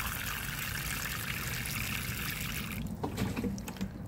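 Water draining through a pot of potting soil mixed with perlite, a steady close trickling and gurgling that cuts off near the end, leaving a few faint drips and small sounds.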